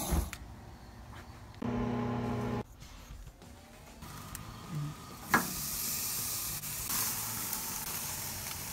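Lobster tails searing over an open flame, a growing hiss and sizzle that turns into a loud, steady roar of frying after a few scattered clicks and clunks, close by.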